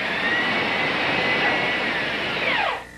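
Power drill boring holes through the wooden gunwale of a boat: a steady, loud, close high whine that holds for nearly three seconds, then winds down in a falling pitch as the trigger releases.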